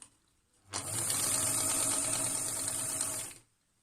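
A sewing machine runs fast stitching a shaped fabric mask, a close, steady mechanical whir that starts abruptly and stops after about three seconds, with quiet surroundings on either side.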